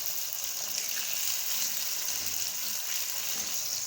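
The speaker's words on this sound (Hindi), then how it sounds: "ये देखिए आलू जो हैं वो फ्राई होते जा रहे हैं।" Potatoes for aloo palak frying in a pan, giving a steady close hiss and sizzle throughout with no talk.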